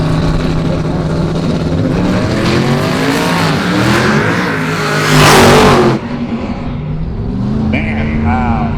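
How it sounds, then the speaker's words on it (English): A drag race car at Roadkill Nights launches with heavy wheelspin, its engine roaring loud and close as tires lay rubber with a rising screech, under excited commentary. "All the wheel speed, power coming on, but more so, rubber being laid down."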